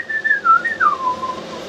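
A single person whistles alone in a live broadcast studio, a clear close whistle that glides down in pitch with a few wavering turns over under two seconds.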